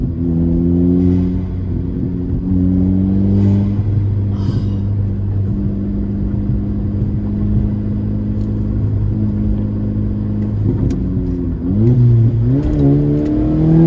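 A high-mileage 2008 Volkswagen GTI with 195,000 miles pulls hard through second and third gear. Its loud, close engine drone climbs steadily in pitch, dips briefly at a shift, then rises again under acceleration with turbo spool.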